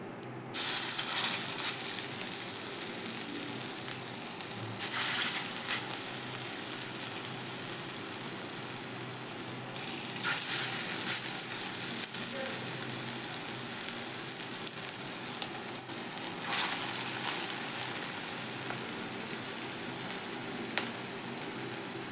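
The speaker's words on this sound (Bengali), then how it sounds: "এরপর আমি বড়াগুলো ভেজে নিচ্ছি।" Potol kofta balls fry in white oil in a kadai, giving a steady low sizzle and bubbling that runs throughout, with a few louder crackling bursts of hot oil.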